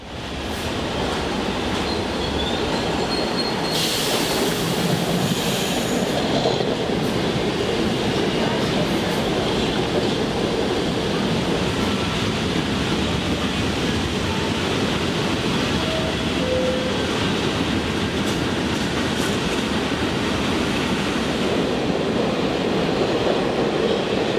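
A New York City subway train rumbles steadily along the tracks, a continuous loud roar of wheels and motor with a short squeal early on.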